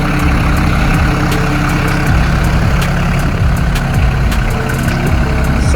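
A tractor engine runs steadily and loudly close by while soil is leveled for an onion bed, a constant low rumble with no pauses and no talking.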